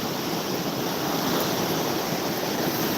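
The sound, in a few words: waves on flooding White River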